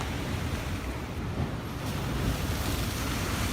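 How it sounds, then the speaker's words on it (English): Ocean waves roll and wash in a constant broad roar, dense and unbroken with faint wind rumble mixed in. "Listen to the ocean."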